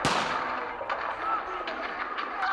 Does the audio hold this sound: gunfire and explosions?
yes